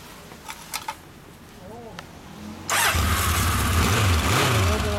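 A 2005 Honda CBR1000RR fitted with a Moto Bum Corsa exhaust fires up and settles into a loud, steady idle with a few blips of revving. Faint voices and light handling noise come before the engine starts.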